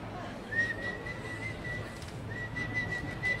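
A person whistles to call down a trained pigeon, producing two long, thin, steady whistle tones separated by a short pause, fairly faint over quiet outdoor background noise.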